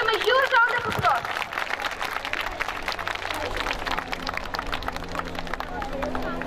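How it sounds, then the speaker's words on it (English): An audience at a school Republic Day prize ceremony claps for award winners. A voice speaks briefly at the start, then steady, broad applause from a large crowd fills the rest. "Please give them a huge round of applause."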